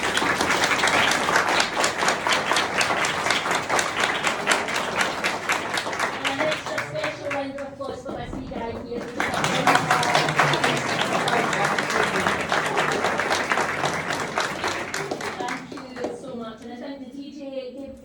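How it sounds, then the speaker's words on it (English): Wedding guests at the Rowantree in Edinburgh applaud the couple after the ceremony in two long bursts of dense, steady clapping, with a voice speaking between them and again near the end. "I think we give them a round of applause"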